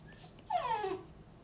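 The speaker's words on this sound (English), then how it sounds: "I don't know if you can hear my dog whining in the background." A dog whines faintly in the background, one drawn-out falling whimper after a short earlier whine, heard at a distance indoors.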